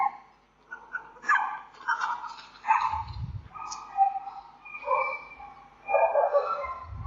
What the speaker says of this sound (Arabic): قد تشتعل النزاعات وتندلع المشاجرات بين الكلاب وبعضها